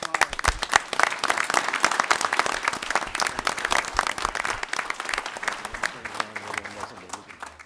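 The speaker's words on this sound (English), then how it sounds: "Let's give them a round of applause." An audience at a village board of trustees meeting in Arlington Heights, Illinois, claps together in a lively burst of individually distinct hand claps that gradually thins out and fades.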